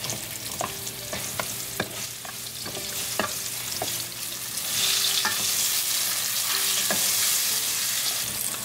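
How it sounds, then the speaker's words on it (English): Potatoes frying in hot olive oil with masala as they are stirred: a steady sizzle with repeated scraping clicks of the spoon against the pan, getting a bit louder midway. "Cooking our potatoes for 2 minutes."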